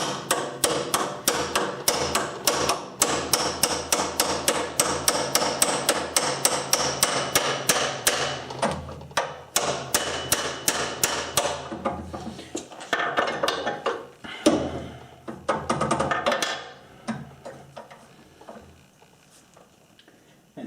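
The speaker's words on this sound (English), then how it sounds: "I should be able to tap the top of this, and it should act just like those wedges." A hammer taps the top of a rod on a small drill chuck arbor, a long run of quick, even metallic knocks that slows to scattered, uneven strikes and fades toward the end.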